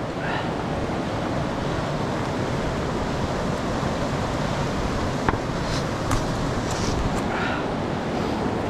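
River rapids at Dartmouth Rapids in Ohiopyle rush in a constant broadband roar of churning water, steady and fairly loud, with wind adding to the noise and no talking.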